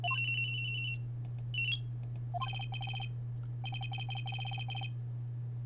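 A cell phone in Phoenix Wright: Trials and Tribulations rings with bright, repeated electronic trills in bursts, loud and alone over a steady low hum.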